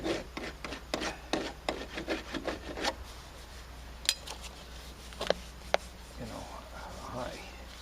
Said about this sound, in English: We got a rasping sand here. Not too much rasping, I'm just trying to fill in the low spot.